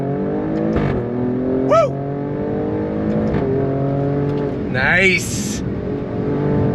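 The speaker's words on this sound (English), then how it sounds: "Love the sound of that V6. Fast shifts from the ZF 8-speed." A 2023 Alfa Romeo Stelvio Quadrifoglio twin-turbo V6 with a ZF 8-speed pulls hard under full throttle, rising in pitch with quick upshifts that drop it sharply, close and loud, with a person whooping and talking over it.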